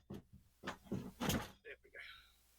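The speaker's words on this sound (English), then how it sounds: "Drawer out." A drawer slides out on a sailboat with a few wooden knocks and scrapes, close by, while a person talks over it.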